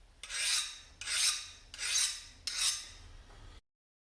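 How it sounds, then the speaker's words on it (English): Four long rasping strokes of a metal file skating over hardened knife blade steel, each stroke about half a second, close and steady with short pauses between, then silence. "I'm going to test a file. If it's hardened, it'll skate the file really easily."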